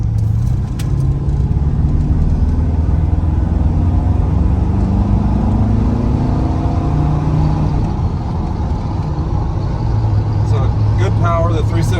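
A 1987 Chevrolet R10 pickup with 3.73 gears and an overdrive TBI setup cruises on the highway, its engine and road noise a steady loud drone with rising pitch as it accelerates, while someone talks over it.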